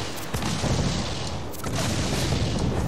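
Ship cannons fire in a naval battle in Assassin's Creed IV Black Flag, with heavy booming blasts rolling into one another and a dense, continuous roar of broadband noise filling the whole stretch.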